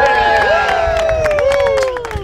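Crowd cheering and applauding at the ribbon cutting for the Cabo Wabo grand opening on the beach in Huntington Beach, loud and continuous, with whoops and voices over the clapping.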